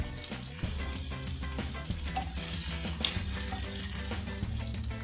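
Bacon-wrapped prawns and chicken sausages sizzle on a lidded barbecue grill, a dense continuous crackle close by with occasional sharper pops and clicks.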